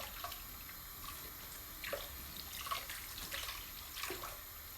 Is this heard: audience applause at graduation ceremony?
no